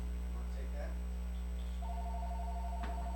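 A telephone rings partway through, a steady pulsing electronic tone over low mains hum and murmured voices in a room during a talk show about Covid-19 updates.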